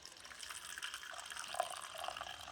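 Water poured from a container over four torn Cassia alata leaves in a teapot, a soft steady splashing wash with a faint rising fill tone, close and alone.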